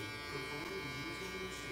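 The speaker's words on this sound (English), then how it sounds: "I forgot to ask you, Brian, which shaver did you feel like was smoother" An electric shaver used for a fade haircut gives a steady, even buzz throughout, held close, with a faint voice underneath.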